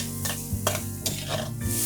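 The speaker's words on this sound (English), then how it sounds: "Now saute the onions only for 2 minutes, not more." Finely chopped onions being sauteed in a pan with curry leaves: a steady sizzle with a few scraping stirs of a spoon against the metal, close and moderately quiet.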